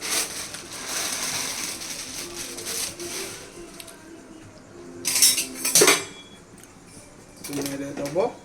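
Chowmein noodles stirred in a pot of hot water for an egg chowmein, giving a few loud metallic scrapes and clinks of a utensil against the pot over a steady background hiss, with a person speaking in between.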